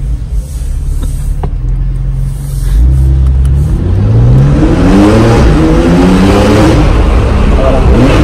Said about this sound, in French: Écoutez-moi le bruit de cette voiture.